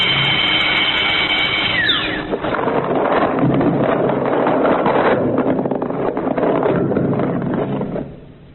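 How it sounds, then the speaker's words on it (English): A loud, continuous mechanical drone of drilling, with a whine that dips early on, then fades out at the end. "That's all the drilling we need today."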